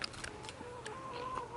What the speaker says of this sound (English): Then we have chickens. The flock.